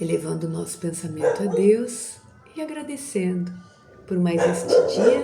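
Someone talks steadily as dogs bark repeatedly nearby, the barks interrupting and overlapping her speech.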